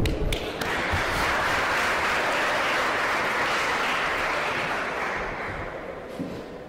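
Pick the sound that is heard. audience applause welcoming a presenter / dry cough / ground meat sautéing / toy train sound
audience applause welcoming a presenter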